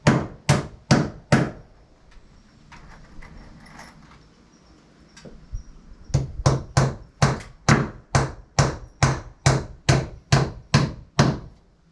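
Hammer blows drive a couple of nails into a wooden block fixed beside a joist while building the loft of a timber frame shed, sharp close strikes in steady rhythm, a quick run, a pause, then a longer even series.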